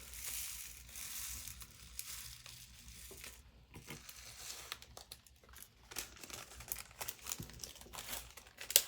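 A bag of embroidery beads is handled and crinkled at close range, giving irregular plastic rustles and crunches with small clicks, quiet overall and louder toward the end.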